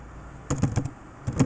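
Keys clacking on a faulty computer keyboard, two short bursts of rapid close typing separated by a pause, with no talk over them.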